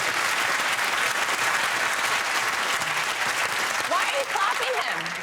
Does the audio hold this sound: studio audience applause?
yes